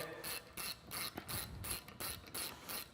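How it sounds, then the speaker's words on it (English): Hand ratchet clicking in quick repeated bursts while tightening fasteners on a winch mounting bracket for a Polaris ACE off-road vehicle, close and clear with brief pauses between strokes. "we're going to go back and torque those to specifications per the directions"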